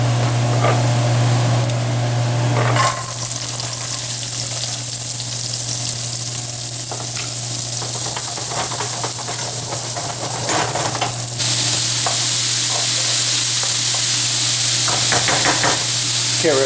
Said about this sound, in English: to saute some of the vegetables